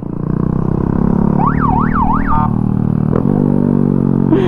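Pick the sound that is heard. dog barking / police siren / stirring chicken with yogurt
police siren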